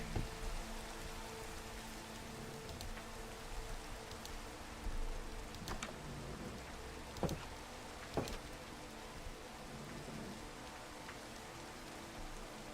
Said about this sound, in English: because it's raining so hard